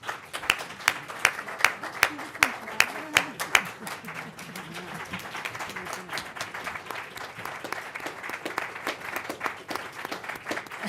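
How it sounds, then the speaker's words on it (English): Applause from a board meeting audience honoring the school board, steady clapping throughout with a few sharper, louder claps standing out early on, moderately near with a faint voice murmuring underneath. "help me give them a round of applause"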